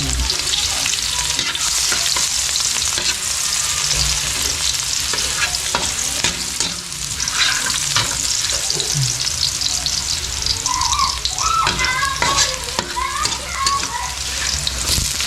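Garlic sizzles and crackles steadily in a hot pan while being stirred, with scraping utensil strokes over continuous frying noise and occasional faint voices in the background.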